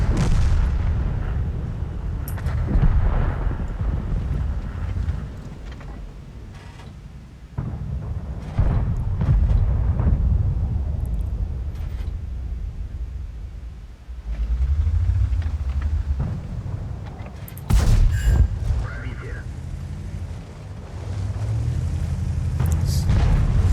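Tank guns firing at a bush in World of Tanks: repeated heavy booms and cannon shots over a constant low rumble of engines and battle noise, loud and close, with no talking.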